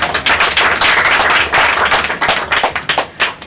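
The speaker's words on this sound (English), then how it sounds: "big clap." An audience claps loudly and energetically, a dense burst of hands slapping close by that thins out toward the end.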